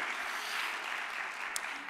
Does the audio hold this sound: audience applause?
yes